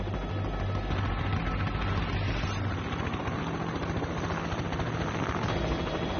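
A low, steady rotor-like engine drone hangs in the air throughout, loud and continuous, like an aircraft passing overhead.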